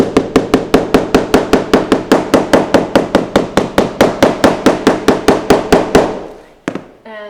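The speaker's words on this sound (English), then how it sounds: "you want to tap the whole entire surface with a hammer to make sure the layers are very" Hammer tapping firmly across layers of leather being compressed, a rapid steady series of about thirty sharp knocks over six seconds, then a pause and a few faint clicks.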